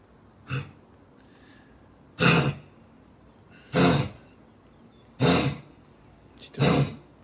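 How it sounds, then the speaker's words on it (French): Five loud, harsh bursts spaced roughly a second and a half apart, each a rough, breathy cough standing alone against quiet background. "c'est la plus grosse toux jamais entendue depuis belle lurette"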